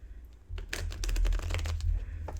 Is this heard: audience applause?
no